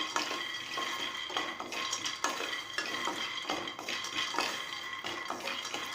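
Peanuts dry-roasting in a pan on low heat for Tamil peanut chutney, with a steady rattling scrape of stirring and light clinks of a spoon against the metal running throughout, fairly close and unaccompanied by talk.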